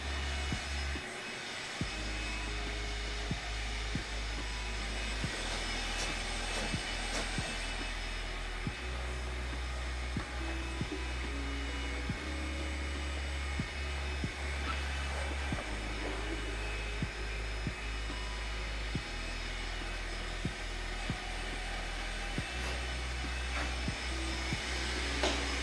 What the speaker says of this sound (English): Vacuum doesn't have the suction like it used to, that's for sure.